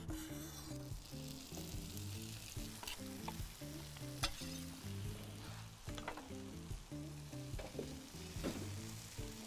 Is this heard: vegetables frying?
yes